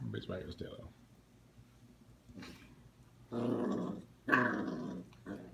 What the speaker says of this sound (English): That's red growling and brown wagging.